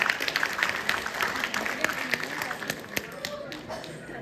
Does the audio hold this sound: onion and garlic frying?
no